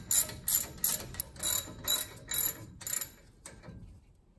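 A hand ratchet tightens the brake caliper bolts on a RAM 1500. About eight evenly spaced bursts of clicking sound close by, each one a short swing of the handle, and they fade toward the end with no talking.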